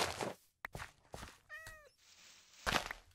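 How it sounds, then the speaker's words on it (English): A video game cat gives a short rising-and-falling meow in the middle, set among soft thumps and clicks of gameplay activity, fairly close and clear. "Hi, kitty cat."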